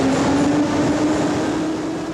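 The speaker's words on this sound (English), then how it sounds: "But don't dawdle, the subway waits for no one." Moscow metro subway train heard as a steady, loud rolling rumble with a faint high tone running through it, continuous for the whole stretch with no voices.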